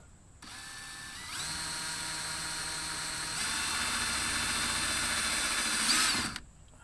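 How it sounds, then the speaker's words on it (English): An electric drill with a 1/4 inch bit spins up and whines steadily as it bores into plastic on a 2019 Ford Ranger for mudflaps, its pitch shifting partway through before it stops after several seconds. "I'm just drilling into this plastic right here"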